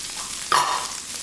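Cantonese special fried rice cooks in a pan over high heat, giving a short burst of sizzling and frying as food hits the hot surface, close and fairly loud.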